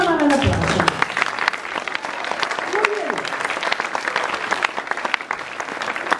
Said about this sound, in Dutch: Daar mogen jullie allemaal een applaus voor.